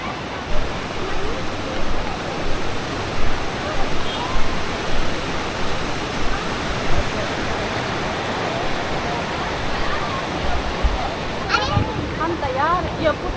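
Glacier stream water at a glacier picnic spot in Gilgit, Pakistan, flowing nearby as a steady, full rushing wash that fills the whole clip, with a few faint voices and brief bird calls at the end.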